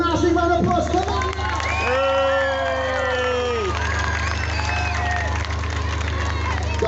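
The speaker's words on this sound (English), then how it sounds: "give these young people at Wolverhampton a massive round of applause" Crowd of young performers' audience at a town performance in Wolverhampton cheering and clapping, a loud dense babble of shouts and applause with voices and whistling tones rising over a steady low hum.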